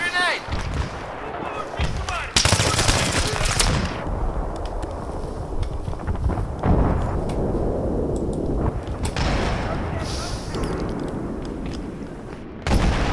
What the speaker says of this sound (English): Okay, I'm throwing a grenade.